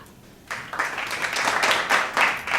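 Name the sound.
audience clapping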